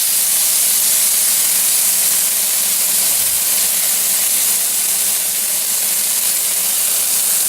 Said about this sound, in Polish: Smażę do czasu, aż będą bardzo miękkie i takie lekko ciemne.